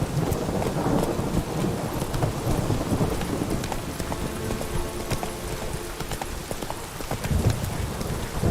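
A horse gallops through heavy rain in the Witcher 3 game, with steady hoofbeats under a constant wash of rainfall and rumbling thunder.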